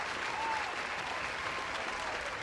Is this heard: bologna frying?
no